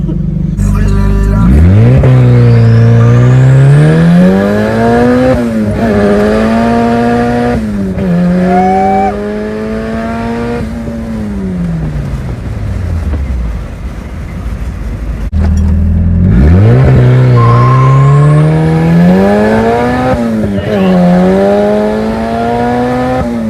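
A turbocharged Honda Del Sol pulls hard through timed acceleration runs, engine pitch climbing and dropping across gear shifts in two loud, close bursts, with a quieter stretch between them.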